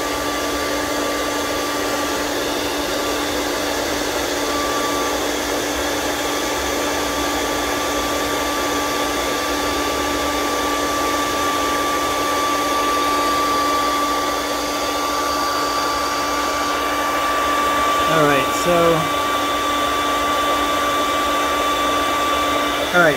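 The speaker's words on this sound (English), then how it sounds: "As soon as you get the bowl the shape you want, it will dry it with a torch." Torch flame drying a freshly thrown pottery bowl on the wheel, a steady loud roaring hiss that runs continuously throughout, with a couple of brief clicks and shifts near the end.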